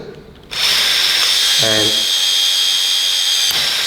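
A power drill drives a drill-powered pop riveter to set a rivet: a steady loud whine starts abruptly and runs for about three seconds, with a brief ratcheting judder partway through, and a short spoken word near the start.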